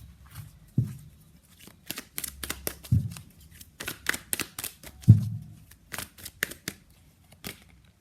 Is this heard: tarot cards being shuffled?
yes